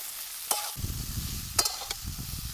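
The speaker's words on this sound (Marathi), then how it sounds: "आणि मस्त आपल्याला तेलामध्ये परतून घ्यायचं इथं चांगले परतू परतू घ्यायचे त्याला" Kartule (spiny gourd) pieces sizzle in hot oil as they are stirred, a steady close frying crackle with a few sharp scrapes of the spoon against the pan.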